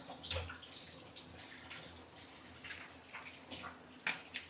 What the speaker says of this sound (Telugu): కొన్ని వాటర్ యాడ్ చేసుకుంటున్నా